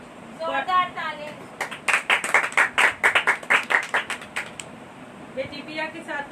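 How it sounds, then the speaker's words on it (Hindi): A congregation at a women's church meeting in Rehman Colony breaks into loud, rapid applause, a bright burst of many hands clapping that swells for a few seconds, with a voice speaking before and after. "जोरदार ताली।"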